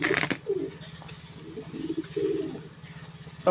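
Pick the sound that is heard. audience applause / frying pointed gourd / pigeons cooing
pigeons cooing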